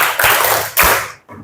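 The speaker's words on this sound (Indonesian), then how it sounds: "Tepuk 1, tepuk 2, tepuk 5." Students in a classroom lesson clap their hands together, giving a short run of loud, close claps in quick bursts with a brief pause before the last few.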